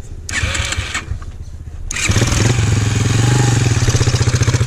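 A motorcycle engine cranks with clattering bursts and then catches, settling into a loud, steady throbbing run close by on a rural riding outing in Burra, South Australia.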